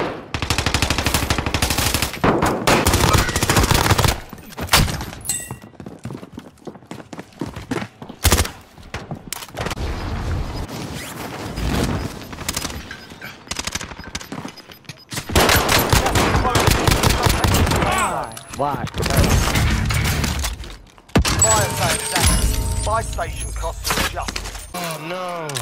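Gunfire in Warzone: loud, rapid machine-gun bursts alternate with quieter stretches and more scattered shots across the whole stretch, close and sustained.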